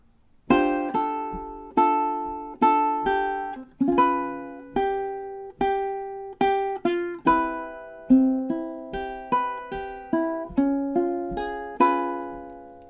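Ukulele playing measures 5 to 8, clear close strummed and plucked chords ringing one after another in a relaxed bossa rhythm, each decaying before the next, with no voice over it.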